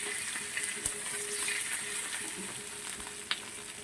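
Sea fish frying in hot oil, a steady close sizzle with occasional small pops and crackles throughout, no voices.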